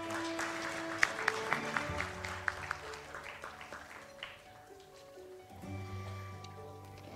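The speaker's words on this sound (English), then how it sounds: "Big round of applause, please." Applause from the audience at an art competition award ceremony, a soft scattered clapping with a few sharp claps near the start, mixed with background music and room noise, fairly faint throughout.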